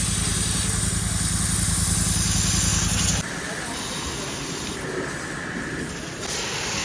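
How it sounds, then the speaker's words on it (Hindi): A steady hissing spray of pressurized water washing motorcycles runs throughout, with a rhythmic engine-like pulsing underneath at first that stops partway through. "बाइकें वॉश कर रहे हैं।"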